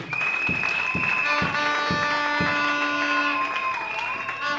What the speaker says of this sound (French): Acclamons très fort pour notre Dieu